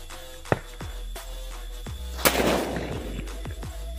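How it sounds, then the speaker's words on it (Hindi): An Arya bullet bomb firecracker set off during Diwali cracker testing gives a sharp early crack, then a loud blast with a crackling tail, outdoors among scattered fainter pops. "काफी शानदार चला है ये आर्या का बुलेट बम"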